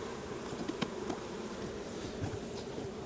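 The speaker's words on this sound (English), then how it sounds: "Now I'm never going to be able to get all the bees out" A steady swarm of honey bees drones at a hive while a package of bees is being installed, close and continuous, with scattered nearer wingbeats darting past.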